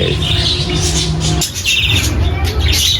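A cluster of birds squabbles in the morning, chirping and calling noisily, overlapping squawks and tweets continuing throughout, near and loud, with a brief dip midway.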